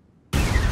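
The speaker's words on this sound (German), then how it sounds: "Ci stanno sparando!" Gunfire erupts in Codename: Panzers, Phase Two during the desert battle at Tel El Eisa: silence, then a sudden loud, dense burst of shots that keeps roaring to the end.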